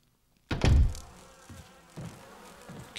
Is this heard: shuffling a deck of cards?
no